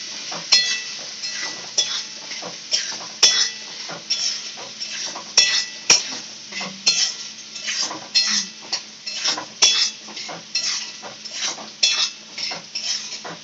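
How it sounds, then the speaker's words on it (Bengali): A metal spoon scrapes and clinks repeatedly against a pan while turmeric powder is stirred in for a home-style vegetarian ghugni, steady close rhythmic stirring over a faint sizzle with no talk. "হলুদ গুঁড়ো দিয়ে নাড়িয়ে নিচ্ছি"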